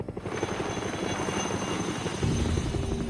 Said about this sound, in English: you can hear the chopper coming down